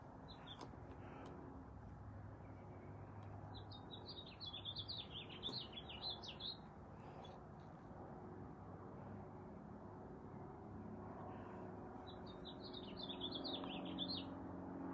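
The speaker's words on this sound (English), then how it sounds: "I agree, Beth, those birds are fantastic." Birds chirp outdoors in quick twittering bursts, two clear flurries of bright tweets at moderate distance over a faint steady background hum.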